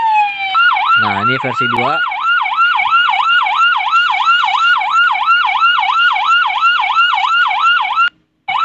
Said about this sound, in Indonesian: bisa mengubah juga ya untuk suara sirenenya cuy